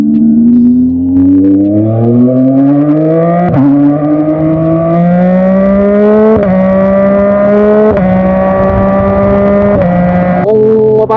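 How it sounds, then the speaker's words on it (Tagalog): A Yamaha MT-09 naked motorcycle fitted with an Orion full system exhaust revs loud and close, its engine note climbing in repeated pulls with sharp drops between each rise, steady and continuous throughout. "Kung mapapansin nyo or maririnig nyo yung tunog, naka-Orion full system exhaust tayo."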